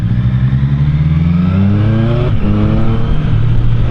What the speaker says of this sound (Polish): Także to jest taki motocykl, który naprawdę jeżeli miałbym zastąpić Streeta, to zastąpiłbym go CB1000R